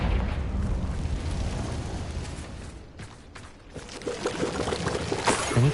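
Confringo, a fire spell in Hogwarts Legacy, explodes in a continuous rushing roar like a burst of flame, briefly easing midway before surging back loud.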